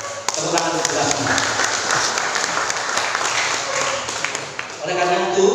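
A crowd claps at the inauguration of a multipurpose building in Banyuwangi. The applause is steady and moderately loud, and a voice rises over it as it tapers off near the end.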